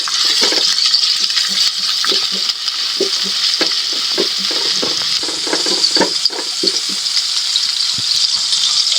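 Onion sizzles in hot oil in a pan for a Filipino pork igado, with a steady bright frying hiss and frequent scraping, clinking stirs of a utensil.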